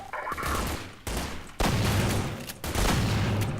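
Gunfire from the leaked beta of the video game Half-Life 2: several loud, close bursts of shots in quick succession, separated by brief gaps, with no voices.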